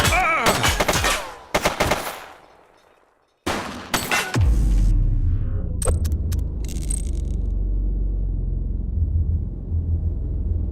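Gunfire in the police video game The Precinct: bursts of shots in the first few seconds, a brief gap, then more shots over a continuous low engine rumble.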